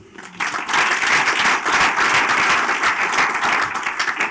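An audience bursts into loud applause at a South African brand awards event, dense, sustained clapping that starts suddenly and carries on evenly to the end.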